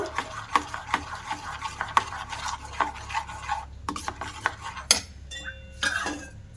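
Rice-flour batter for bataasha pitha being stirred in a bowl, with a rapid series of scraping, clinking strokes of a spoon against the container, close and uneven in rhythm, pausing briefly before a final few knocks.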